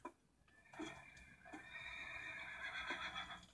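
A horse whinnies in a long, high, quavering call in Minecraft on PS4, faint and slightly distant, with a few soft thumps around it.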